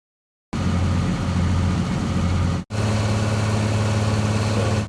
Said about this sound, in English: That's definitely the truck sounds.